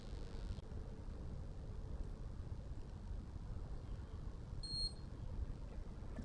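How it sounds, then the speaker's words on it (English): A handheld galvanic facial device gives a faint, steady high beep tone while in skin contact, briefly brighter midway, over a low continuous hum and hiss. "continuing beep just tells me that I'm still making contact and that the treatment is working"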